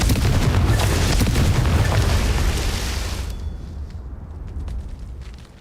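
A loud, booming Confringo spell blast from Hogwarts Legacy, a heavy explosive roar that holds for about three seconds, then cuts to fainter rumbling debris and crackle.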